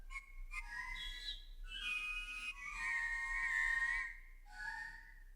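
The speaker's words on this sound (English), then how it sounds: "These are a couple of ocarinas." Breathy, hollow wind-instrument tones of an ocarina, several sustained notes and short phrases rising and falling, played alone with brief pauses.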